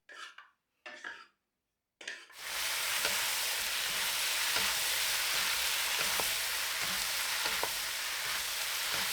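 Scrambled eggs and shrimp stir-fried in a wok with a wide spatula, a loud steady sizzle starting after a few brief coughs, with faint periodic scrapes of the spatula through the ingredients.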